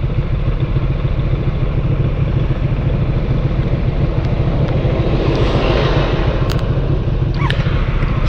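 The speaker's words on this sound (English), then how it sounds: "Stop here, there's a tractor coming down." A tractor driving down a road gives a loud, steady engine rumble that continues unbroken from start to finish, with no voices.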